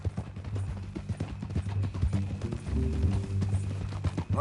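Horse hooves clip-clopping in Red Dead Redemption 2, a steady rhythmic run of close, loud hoof strikes with creaking tack and faint ambient sounds underneath, no talking.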